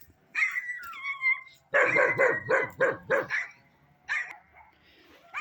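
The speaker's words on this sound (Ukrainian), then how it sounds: "Ці гадські сусідські собаки" Several neighbours' dogs bark in quick bursts, a rapid run of yapping barks in the middle with a few higher yips before and after, fairly close.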